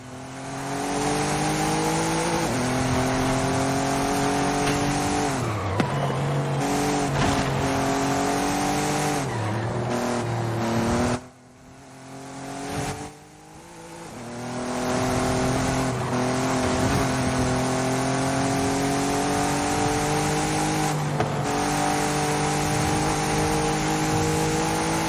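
Race cars lapping in a racing video game, engines howling loud and close through rising and falling gear changes, with brief squeals and a sharp dip where revs drop before climbing back to a sustained whine.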